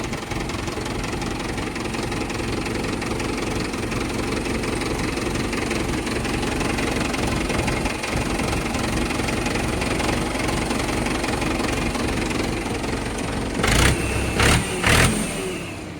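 A Mahindra 475 tractor's diesel engine idles with a continuous low, knocking rumble, close and steady, ending in a few louder clunks near the end.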